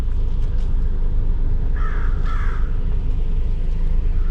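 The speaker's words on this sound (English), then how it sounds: "And you got the crows making noise." A couple of harsh crow caws ring out over a low, steady outdoor rumble in Columbus, Wisconsin, with no other voices present.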